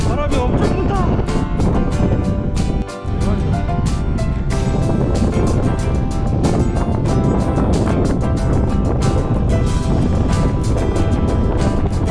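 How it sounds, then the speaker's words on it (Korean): Strong winter wind on a mountain ridge in Gangwon-do, roaring and buffeting a nearby microphone steadily throughout, with a voice talking underneath. "바람이 너무 불어서 안 되겠어요"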